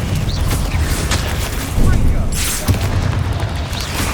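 A Confringo spell cast in the Hogwarts Legacy video game sets off loud booming blasts with rumbling low end and a brief bright burst midway. The sound is dense and continuous, and a voice talks over it.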